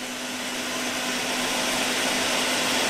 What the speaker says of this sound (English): And my blender going.